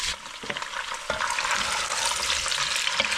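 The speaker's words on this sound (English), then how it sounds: "We're gonna go ahead and add our shrimp in there." Shrimp sizzling and frying in a pan for spicy seafood linguine, a steady dense hiss with brief stirring knocks, close and loud throughout, with no talking.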